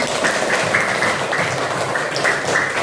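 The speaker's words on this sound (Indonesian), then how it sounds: "Tepuk tangan untuk kita semua" A class of schoolchildren applauding at the end of a Hindu religious education lesson, a continuous even patter of many hands with faint rhythmic accents throughout.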